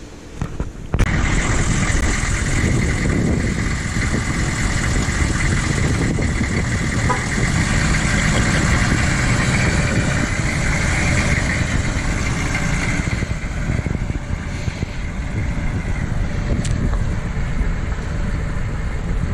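A lowered OBS-era Chevrolet dually pickup on 24x16 DK Forged super single wheels rumbles with a loud, steady engine drone that starts up abruptly and holds nearly constant as it pulls away.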